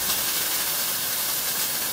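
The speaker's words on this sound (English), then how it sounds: "so I can also fry my meat there" Steady, dense hissing crackle of meat frying in hot oil in a pan, spattering, continuous and fairly loud with no voices.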